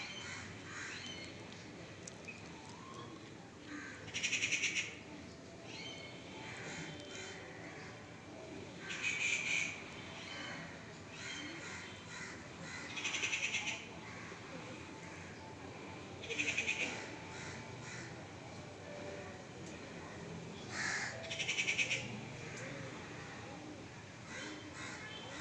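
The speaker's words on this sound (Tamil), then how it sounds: "இது இன்னொரு பறவை" Outdoor bird calls ring out in short bursts roughly every four seconds, moderately loud over a steady hiss of background ambience, with no other sounds standing out.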